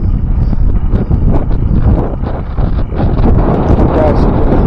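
A steady wind of about 10 miles per hour in a grassy meadow buffets the microphone in low, rumbling gusts throughout, with faint background voices now and then.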